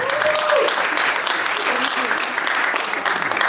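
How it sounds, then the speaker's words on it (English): An audience at a civic flag-hoisting ceremony in Windsor breaks into a big round of applause, dense continuous clapping filling the room at steady loudness, with a short tone near the start. "a big round of applause for our co-hosts for this program"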